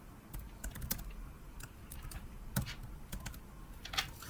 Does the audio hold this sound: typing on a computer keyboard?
yes